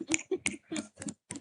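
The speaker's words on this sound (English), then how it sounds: "Snap your fingers." Finger snaps from an audience at the Capital Markets Youth Forum 2026 closing ceremony in Kigali, Rwanda, used in place of clapping: about six sharp, separate snaps spaced unevenly, quiet and close, with no talking.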